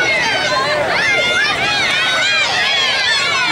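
A crowd at an independent wrestling show, loud excited cheering and shouting voices overlapping in a lively hall, sustained throughout with no pause.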